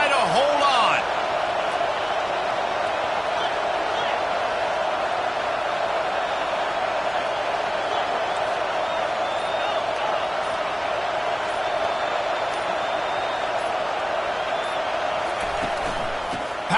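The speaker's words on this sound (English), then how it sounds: "This crowd even louder now on 2nd down as they try to hold on." A college football stadium crowd roars steadily and loudly on second down, a continuous dense wall of noise with a sports commentator talking over it.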